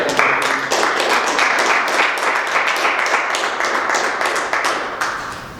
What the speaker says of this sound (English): give them a big round of applause for what they've done